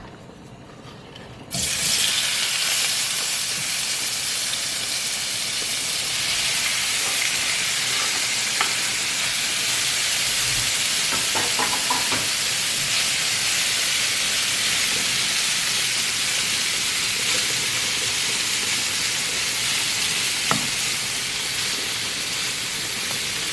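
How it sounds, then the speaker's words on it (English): Shrimp dropped into hot oil for jerk shrimp pasta; after a brief quiet moment a loud, steady sizzle swells up and holds for the rest of the stretch, close and continuous, with a few faint clinks and no voices. "So now I'm gonna add my shrimp to my oil and let that cook."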